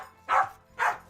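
A dog barks twice, close and clear, two evenly spaced mid-pitched barks with a short silence between them.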